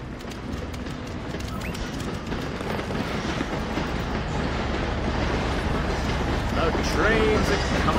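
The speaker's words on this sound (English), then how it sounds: "Trains are coming." Trains rumble past continuously in the video game Black To Fall, a steady rolling clatter with rhythmic clicking that swells slightly toward the end, with voices audible over it.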